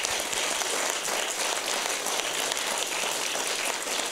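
A church congregation at St James AME Zion gives a hand clap of praise, a dense, continuous wash of clapping that sounds almost like rain, moderately faint and even throughout.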